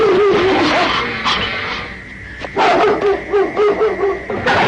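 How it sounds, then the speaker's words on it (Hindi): Several dogs bark and yip excitedly in a cartoon jungle, close and loud in uneven bursts with whining between, a short lull in the middle before the barking picks up again. "ये कुत्ते भौंक क्यों रहे हैं इतना?"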